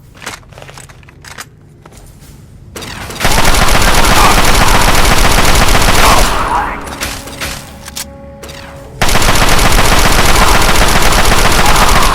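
Gunfire in the Fallout 3 video game comes as loud, sustained automatic bursts that run for several seconds each, split by a quieter stretch of clicks and mechanical sounds. The game's firing sounds dominate the clip.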